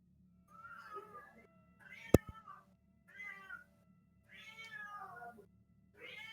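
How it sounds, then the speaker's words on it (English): An angry cat outdoors near a wet, sandy cave entrance yowls in four drawn-out, wavering meows separated by short pauses, moderately close, with a sharp click partway through. "there's a very angry cat somewhere"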